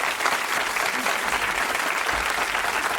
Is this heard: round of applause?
yes